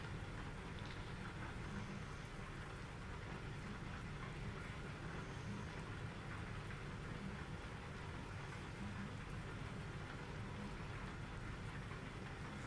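Steady rain in a trucking video game, a constant dense hiss of falling drops with a low engine-like rumble underneath, even and unbroken throughout, with no talking.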